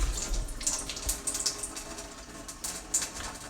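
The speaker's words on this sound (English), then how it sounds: "Turn my water purifier on and let the water run through there a little bit." Water from a home water purifier runs steadily into a jug, a continuous close hiss and splash with small bright spatters throughout and no talking.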